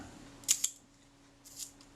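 A Kodak Retina IIa camera shutter fired at 1/10 second: a crisp double click, opening and closing a short moment apart, then a softer mechanical click later, close and isolated in a quiet room.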